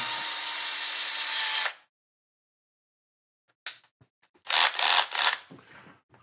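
A power drill drives screws into a FastEddy Bearings DR10 build. It whirs for a long first burst, goes silent, then gives several short, close bursts.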